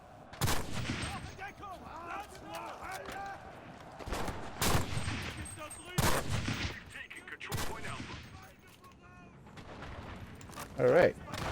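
Bolt-action rifle shots in the World War II shooter game Enlisted, several sharp, spaced cracks over steady battle noise, with other gunfire and voices around them.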